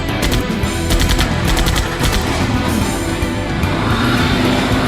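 In the point-and-click game Runaway: A Twist of Fate, a car engine roars loudly and revs as it speeds away, with rapid rattling bursts like gunfire mixed in close.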